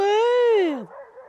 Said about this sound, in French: J'adore, bataille de chiens.